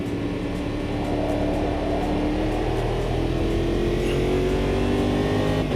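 A high-downforce race car in the Automobilista 2 sim racing game, version 1.6: a continuous loud engine drone with rising and falling pitch as it accelerates, heard from inside the car.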